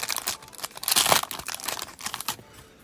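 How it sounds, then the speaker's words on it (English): Scissors snip through the foil of trading card packs up close, a crisp crinkling and tearing that rises and fades over a few seconds with no talking. "I like to use the scissors on these packs"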